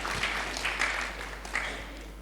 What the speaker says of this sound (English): Big applause to Pak Made Pastike.